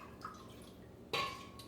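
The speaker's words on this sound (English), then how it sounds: "Add the water." Water is poured into a pot of bean soup being prepared for canning: a sudden close splash and pour rises over faint kitchen drips and clinks, then trails off.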